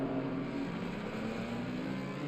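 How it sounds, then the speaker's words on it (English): A Ford Mustang GT3 with a V8 engine in a sim racing game at Silverstone, a steady low engine drone held at constant pitch, moderately loud and continuous with no talk. "Very fast car, V8 engine, produces a lot of horsepower."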